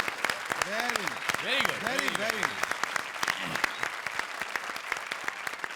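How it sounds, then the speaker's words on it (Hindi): Loud studio audience applause fills a comedy show stage, dense steady clapping throughout with voices rising briefly over it near the start. "जोरदार तालियां।"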